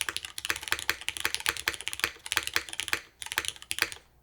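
Typing on a Blaine V2 mechanical keyboard, a close run of bright, crisp clacky keystrokes in an uneven fast rhythm with a brief pause partway, loud and alone.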